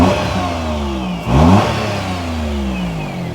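Car engine with a blowing exhaust revving from idle, a close, loud rasp that rises sharply in one quick blip, then falls back to a steady idle.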